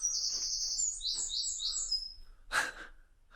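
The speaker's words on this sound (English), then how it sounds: "I'm being told off by the birds" At an abandoned quarry, birds give a run of sharp, high chirping calls in close succession, followed by a louder breathy gasp and quieter chirps against light ambient noise.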